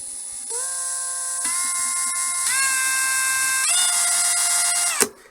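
A Ryobi R18PD5 brushless drill/driver whines as its trigger is squeezed, stepping up in pitch through five distinct speed levels, then stopping with a short clunk, loud and close with no talking.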